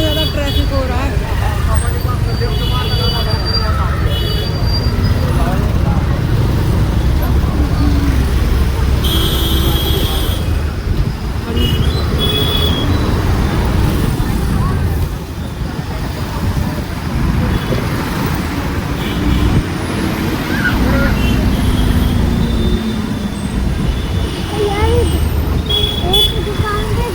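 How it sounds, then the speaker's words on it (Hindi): Heavy road traffic near the Indrayani river at Dehu, Pune, in the evening: a loud continuous rumble of passing vehicles with engine noise and occasional horn toots, with people talking throughout. "कितना ज़्यादा ट्रैफिक हो रहा है।"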